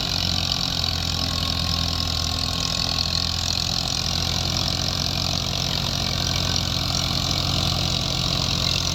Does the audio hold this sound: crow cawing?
no